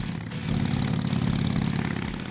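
A Harley-Davidson motorcycle engine idles steadily and loud with a deep, throbbing low rumble throughout, no voices present.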